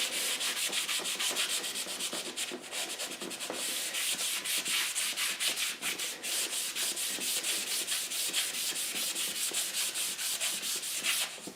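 Cloth rubs polishing paste over the metal of a Bridgeport milling machine in fast, steady back-and-forth strokes, a close and continuous scratchy swishing with no voices.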